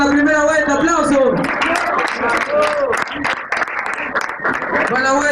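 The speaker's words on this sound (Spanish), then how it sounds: "¡Aplausos, gente! ¡Aplausos para la primera vuelta!" A crowd claps and cheers loudly after the first round of a freestyle rap battle at a hip-hop event, with dense sustained applause while an MC shouts over it.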